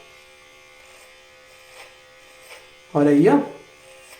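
A T9 vintage electric hair and beard trimmer fitted with a number 4 comb runs with a thin, steady buzz throughout, while someone briefly speaks over it.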